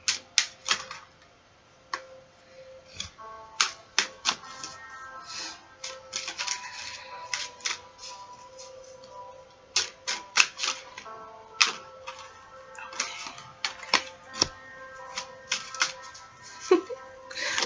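Tarot cards are shuffled over and over, producing crisp irregular clicks and riffles, with quiet pauses between bursts and close, soft handling noises.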